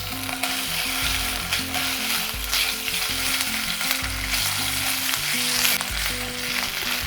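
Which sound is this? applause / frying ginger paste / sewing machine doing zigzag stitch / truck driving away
frying ginger paste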